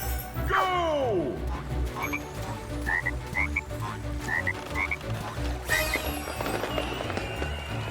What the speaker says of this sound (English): I mean, they're frogs.